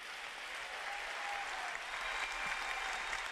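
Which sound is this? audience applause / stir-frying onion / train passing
audience applause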